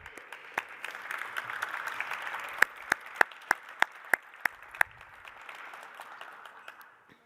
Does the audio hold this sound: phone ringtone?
no